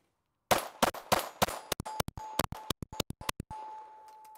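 Glock 44 pistol firing .22 LR Federal Auto Match from a 10-round magazine, a rapid string of sharp, loud shots with short ringing decay, fired close, with no voices.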